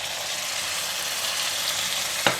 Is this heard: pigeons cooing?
no